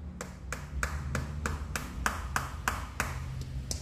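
A fingernail taps a KYT TTC motorcycle helmet about a dozen times in a quick, steady rhythm. Each knock is crisp and close, over a faint low hum.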